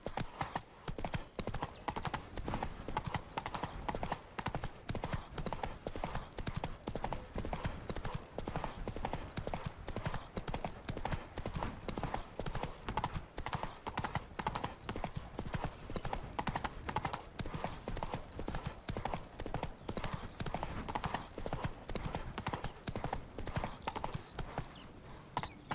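Roach, a horse in The Witcher 3, gallops in a fast, steady clip-clop rhythm that carries on without a break throughout, fairly quiet.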